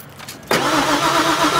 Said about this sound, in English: Let me just start it again now.